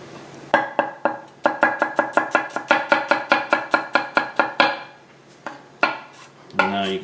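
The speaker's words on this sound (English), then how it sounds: "now you can just kind of start chopping it and scooping it" A knife chops vegetables for pico de gallo on a board, a rapid run of sharp, evenly spaced close thuds, then a few slower strikes and a scraping scoop at the end.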